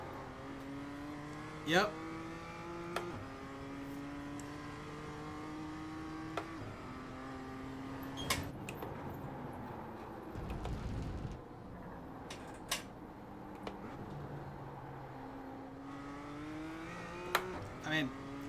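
A race car engine in a sim racing game comes on throttle and revs through rising and falling pitch sweeps, with scattered clicks and a low rumble, while a voice speaks briefly over it.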